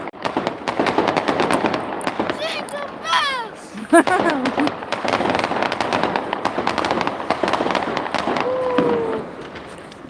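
Fireworks crackle and pop continuously outdoors in Poland, a dense rapid string of sharp bangs like firecrackers, with whistling rockets rising and people talking faintly underneath.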